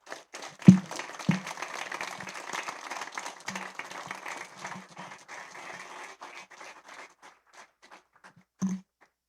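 A church congregation at a marriage meeting gives applause for Jesus, a soft, scattered round of clapping that swells and gradually thins out, with a few louder thumps and faint voices mixed in.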